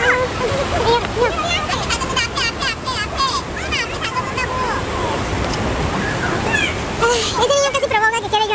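Children jump and splash in the shallow water of the Cheonggyecheon stream in Seoul, with continuous rushing water, overlapping chatter and excited shrieks from many people nearby.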